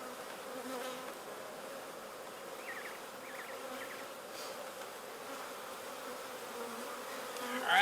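Honey bees buzz at a hive in a winter bee yard as a steady, dense drone that carries on without pause, with a few closer fly-bys passing over the swarm sound.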